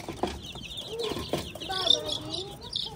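Chickens, including a black hen, clucking and chirping faintly in a backyard coop with young chicks nearby, soft scattered calls mixed with a person talking quietly in the background.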